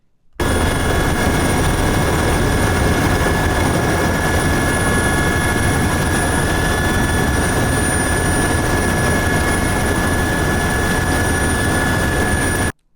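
A helicopter lands on Praslin island in the Seychelles, its rotor and turbine roar loud and close, a steady, dense, unbroken drone with a high whine that continues at constant strength throughout.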